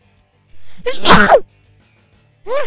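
A single loud, close sneeze with a sharp inhale and a burst, followed after a pause by a short voice reply.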